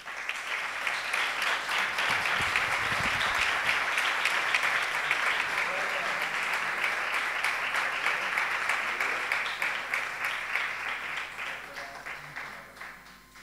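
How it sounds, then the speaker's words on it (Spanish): Strong audience applause at a San Roque ceremony for a professional merit cross award: steady, sustained clapping from a crowd, fairly distant, holding even before tapering off at the end. "Fuerte aplauso."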